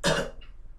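A single sharp cough bursts out loudly, then trails off into a quiet room.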